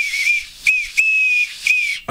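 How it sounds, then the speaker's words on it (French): A small whistle, a gift unboxed at home, is blown in several short shrill blasts and one longer steady tone, close and loud, with a breathy hiss. "Il siffle mieux, celui-ci, que celui-ci qui vient d'Inde."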